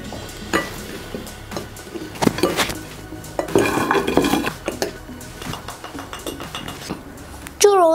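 Churros are tossed in a bowl of cinnamon sugar, with scattered light clinks, scrapes and rustling taps of utensils against dishware, irregular and close by, plus a brief squeak near the end.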